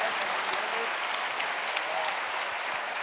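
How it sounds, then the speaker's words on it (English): A steady wash of dense clapping from a large crowd at the EVE Fanfest 2015 gaming convention tournament, loud and continuous from start to finish with no pauses. "Give them a round of applause"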